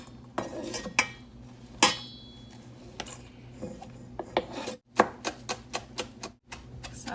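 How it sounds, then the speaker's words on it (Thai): A knife chops gyoza filling on a cutting board in irregular sharp taps and scrapes, some in quick bursts, close and clear with no talk. "สับเพิ่มอีกนิดนึง"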